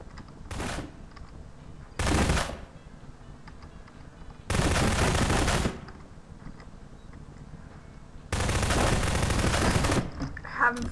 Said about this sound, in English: Having fun shooting that cabinet like a loser.